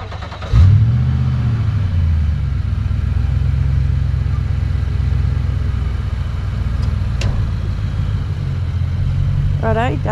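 A car engine turns over early in the morning and revs as it pulls away under a shed, a loud low rumble that holds steady for several seconds before a short burst near the end.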